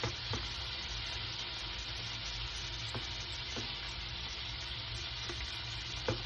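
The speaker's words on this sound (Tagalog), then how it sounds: "ang kailangan lang natin iluto ay itong ham" Ham fries in a pan with a steady, soft sizzle and occasional faint pops and clicks, no voices.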